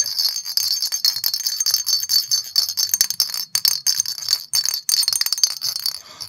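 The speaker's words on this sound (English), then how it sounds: "That's his sleigh bell." Sleigh bells jingle continuously and brightly up close, shaken in uneven bursts with a shimmering metallic ring.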